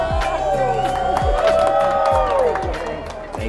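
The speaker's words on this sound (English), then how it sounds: "Please give a round of applause for Mr. CJ McCollum." An indoor audience at an award event for NBA player CJ McCollum breaks into applause and scattered cheers, a dense sustained clapping wash under a loud amplified voice that talks throughout.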